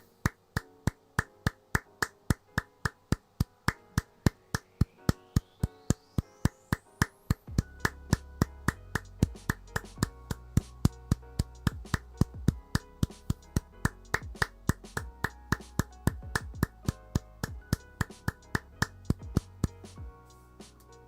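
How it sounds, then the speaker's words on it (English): Slow clapping comes as a long run of sharp, evenly spaced claps in a steady rhythm. A low background hum joins partway through. "Slow clapping."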